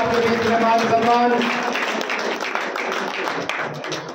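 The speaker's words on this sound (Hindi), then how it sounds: "भाई जोरदार तालियां" Crowd applause at an election campaign welcome ceremony for a Congress candidate, clapping rising under a voice at the start and then continuing as a scattered, thinning patter.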